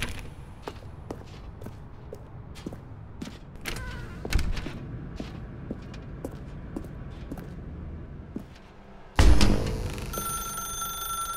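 A telephone rings inside a dark room in The Stanley Parable video game. Sparse clicks and knocks come first, then a loud bright ringing starts abruptly near the end and carries on to the finish.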